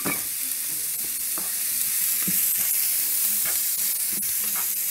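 Sliced onion sautés with salt in a pan for cabbage thoran, a close steady sizzle broken by repeated stirring scrapes and taps, with no one talking.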